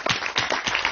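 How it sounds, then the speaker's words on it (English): Hands clap quickly and unevenly during a church service, with a short burst of several loud claps from a congregation heard up close. "If you want to clap, you clap."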